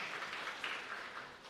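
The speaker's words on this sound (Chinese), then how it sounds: "我们拍手欢迎他" A church congregation in Fuqiang Church claps together during a Sunday worship service, a steady, even wash of applause at moderate-to-faint level lasting throughout.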